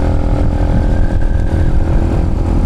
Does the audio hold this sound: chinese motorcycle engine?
yes